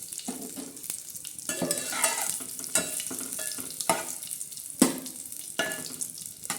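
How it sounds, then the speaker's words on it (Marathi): Curry leaves crackle and sizzle in hot oil in a pot, with a steady fry punctuated by sharp pops and a few stirring clinks, close and moderately loud. "असा छान असा कडीपत्ता आपण हे करून घेणार आहोत भाजणार आहोत"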